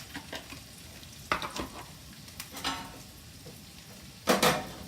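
Crushed garlic frying with onions in a pan, a low steady sizzle broken by scraping stirs and pressing clatters, one louder scrape near the end, close and without talk.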